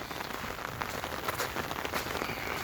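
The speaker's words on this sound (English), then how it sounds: "The rain really isn't heavy, it's just steady." Steady light rain patters on surfaces nearby at a desert homestead, an even continuous hiss of fine drops with no break.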